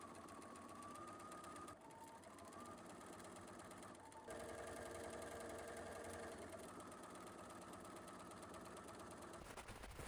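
A sewing machine runs continuously at a steady, even pace, stitching a jacket lining to the outer fabric, faint and constant throughout with slight shifts in pitch.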